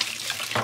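Hot water runs from a kitchen tap during dishwashing, a short burst of steady splashing flow.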